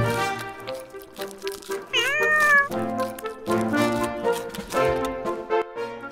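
Cats meow in a few distinct rising-and-falling calls, close and clear, with one longer wavering meow standing out among soft background sounds.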